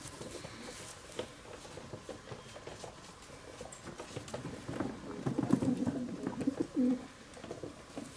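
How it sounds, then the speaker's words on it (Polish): Janssen-line racing pigeons coo softly and close by in a loft, with a few low rolling calls building toward the end over light rustling and background noise. "Piękne gołębie."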